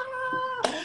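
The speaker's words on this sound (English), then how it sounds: "Hold on, I gotta let my cat in the room." A house cat meows at a closed door indoors, one short, drawn-out call lasting under a second, close and fairly clear.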